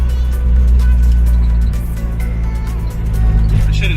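A 1999 Mitsubishi Eclipse GSX driving without power steering, heard from inside as a loud, steady low engine drone with road rumble throughout, a voice faintly audible near the end.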